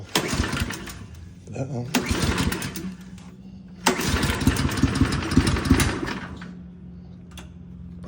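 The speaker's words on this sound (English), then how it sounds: "So first time starting it up, putting this carburetor on, I'm gonna put it to choke." A Toro Turfmaster lawn mower with a newly fitted carburetor cranks on choke in two loud bursts that catch briefly and fade, then a rough lower idle lingers, close by with a short spoken remark.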